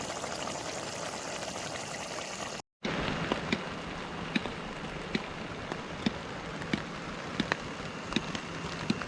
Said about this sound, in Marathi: तर मंडळी इकडे पाऊस येलो बघा